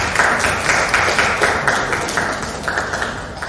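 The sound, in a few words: applause for the speaker, Ibu Yusi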